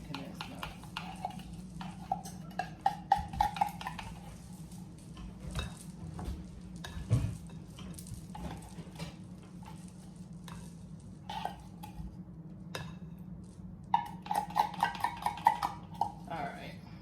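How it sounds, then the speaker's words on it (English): A spoon stirs sweet potato pie filling with sweetened condensed milk in a bowl, giving soft rhythmic scraping and sloshing that comes in bursts, louder near the start and end, with talk over parts of it. "now we'll give it another stir"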